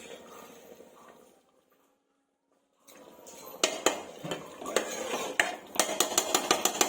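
A metal pressure cooker lid is closed over khichdi. After a quiet stretch there are a series of sharp, close metallic clanks and clicks in quick, uneven succession, getting louder toward the end.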